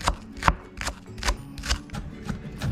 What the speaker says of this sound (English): next we are gonna be chopping up some Green onions.